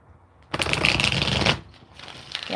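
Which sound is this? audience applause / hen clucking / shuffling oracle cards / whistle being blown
shuffling oracle cards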